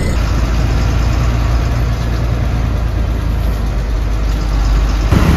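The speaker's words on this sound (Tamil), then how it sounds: "மக்கள், நம்ம வண்டி கிளம்பியாச்சு" A bus engine idles and rumbles loudly close by as it pulls away from Theni, a steady low drone with a brief clunk near the end.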